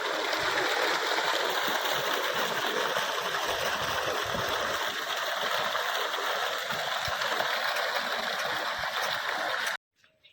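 Water gushes steadily into a farm field, a dense, continuous splashing and gurgling rush that stays loud and close before cutting off abruptly near the end.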